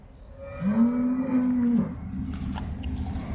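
A cow that has just calved at a home in Nipani lets out one loud, close moo lasting about a second, followed by quiet background noise.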